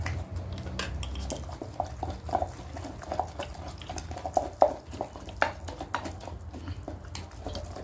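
A metal spoon stirs fish larb salad in a bowl after salt is added, giving scattered light clinks and scrapes against the dish over a low steady background hum, with no one talking.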